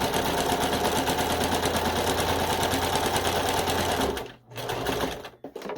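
A sewing machine stitches fabric for a homemade dog costume, a fast, steady mechanical chatter running close and loud for several seconds before briefly stopping, then restarting in a short burst for a back stitch.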